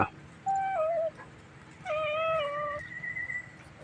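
A cat meows twice at a temple in Lampang, Thailand, drawn-out wavering cries close by, the second longer than the first, over a quiet background.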